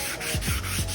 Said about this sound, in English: So now I'm gonna grab my 320, start wet sanding this.